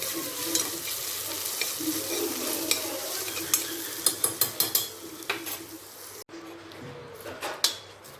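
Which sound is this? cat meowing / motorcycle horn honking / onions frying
onions frying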